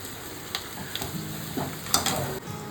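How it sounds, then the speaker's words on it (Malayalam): Onions sautéing in a pan until browning for a chilli chutney, a soft steady sizzle with scattered stirring clicks and scrapes, fairly quiet and close, no talk. "ഉള്ളി വഴറ്റിയെടുക്കുക. ബ്രൗൺ നിറമാകുന്നത് വരെ വഴറ്റുക."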